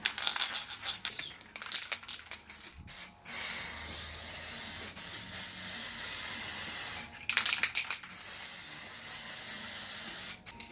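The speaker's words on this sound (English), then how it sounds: "I'll plastic prime it later once I pull that off. I'll just spray a bit on." Aerosol plastic primer spraying onto a Mk4 Ford Mondeo in freezing weather: several short sprays, then a long steady spray lasting a few seconds, then another sustained burst, close by.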